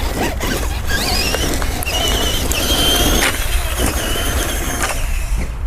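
A Traxxas Stampede 4x4 RC monster truck with upgraded big bore shocks drives over dirt jumps, its electric motor whining up and down in pitch, with rattling suspension and chassis thumps, close and loud throughout.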